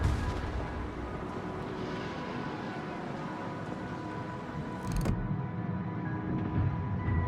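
Naval gunfire from the Brandenburg warship shelling the Harlem in a naval battle game, heard as a dense, continuous rumble of booming salvos with a sharper blast about two-thirds through, loud and without speech.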